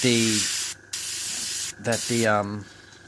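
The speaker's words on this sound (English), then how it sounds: "pull back a little bit away from the model with your airbrush, okay? Even further, and just give it a mist" An airbrush sprays a light mist of paint onto a scale model, a steady close hiss that cuts out briefly twice, with someone talking over it throughout.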